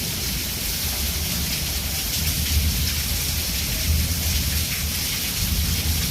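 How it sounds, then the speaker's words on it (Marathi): Heavy monsoon rain pours steadily in a village while thunder rumbles low and continuous beneath it, a dense close wash of rainfall with no voices. "आवाज येतोय का आवाजाचा कसं गरजतंय बघा"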